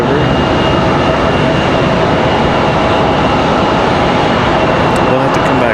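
A Republic Airways jet comes in to land at Raleigh-Durham airport, a loud, continuous engine roar with a faint high whine riding over the steady rumble; some talk may be buried beneath it.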